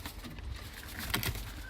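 A pet magpie calls close by indoors, a couple of brief harsh notes standing out against a soft, steady background hiss.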